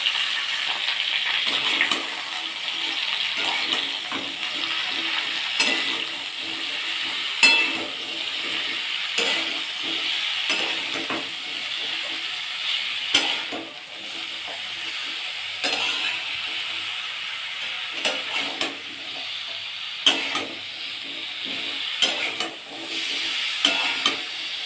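Carambola simmers in a pan with salt and turmeric, giving a steady bubbling, watery sizzle and crackle. Sharp clicks of a spoon stirring against the pan come at irregular intervals, close and fairly loud, with no voices.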